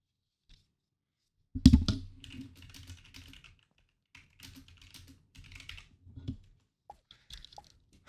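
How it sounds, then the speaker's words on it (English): Computer keyboard keys tapped in short irregular bursts, close and fairly quiet, with a louder cluster of strokes early on and scattered clicks afterward, no voices. "Can you hear me typing?"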